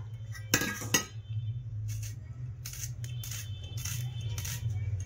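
A knife chops an onion on a board in a home kitchen, two sharp strikes followed by a steady run of evenly spaced cuts over a low electrical hum.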